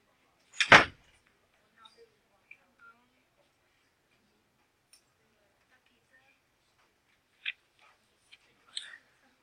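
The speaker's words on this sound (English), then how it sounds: "Why is my door open?" A door shuts with one sharp, close thud, followed by a few faint clicks and small knocks in an otherwise quiet room.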